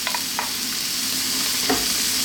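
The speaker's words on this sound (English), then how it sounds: "we're going to throw these around in the wok, stirring pretty much all the time for about 3 to 4 minutes" Shrimp sizzle steadily while being stirred in a hot wok over high heat, a dense continuous frying hiss with a few scraping stirs of the spatula over it, close and loud, no talking.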